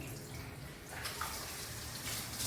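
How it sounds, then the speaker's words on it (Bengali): Water runs steadily from a household tap, a faint, even splashing stream that swells slightly toward the end. "ও দেখুন কল থেকেই জল খেয়ে নিচ্ছে"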